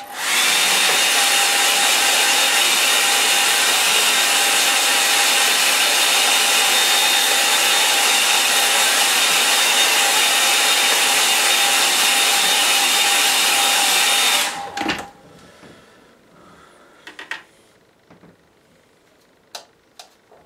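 A hair dryer dries a watercolour painting of a Dartmoor scene with a loud, steady whirring roar for about fourteen seconds, then cuts off abruptly, leaving faint brush taps and small knocks in a quiet room.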